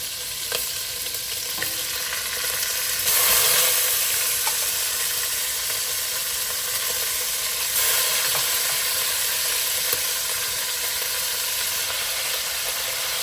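Pork for chili verde goes back into a hot pot and sizzles loudly, a dense crackling fry with brief swells as pieces land and get stirred, close and continuous.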